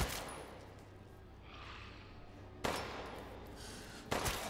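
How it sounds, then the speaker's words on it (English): Shotgun gunfire in the video game Resident Evil Village: two sharp, heavy blasts spaced a second or so apart over a low, rumbling game ambience. "No, I think the shotgun is doing its job."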